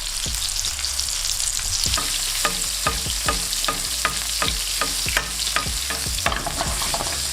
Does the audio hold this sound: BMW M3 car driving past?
no